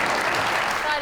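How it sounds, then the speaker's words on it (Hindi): Studio audience applause on a television talk show, a brief dense burst of clapping with voices mixed in. "तालियां ये- बजाएं सारे।"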